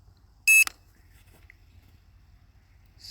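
Short electronic beep from the Hubsan Zino Mini SE drone app: one sharp, loud beep near the start, then quiet low hum, with another faint tone rising at the end.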